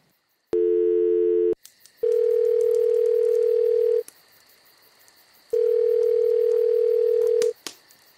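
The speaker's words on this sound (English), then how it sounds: "Calling Dr. Tam." A phone call placed from an iPhone produces a short electronic tone burst, then two long steady ringback tones separated by a gap, loud and clear with no talk over them.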